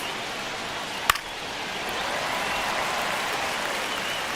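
In the MLB The Show 25 baseball game, a stadium crowd roars and claps through a tense ninth inning, a broad steady wash of cheering that swells after a sharp crack near the start.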